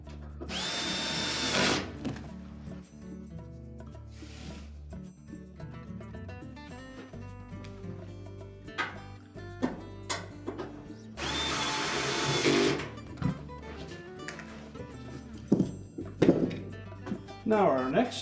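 A power drill drives screws into the console of a Whirlpool washer in two short whirring bursts, with clicks and thumps of handling between them, while someone talks throughout.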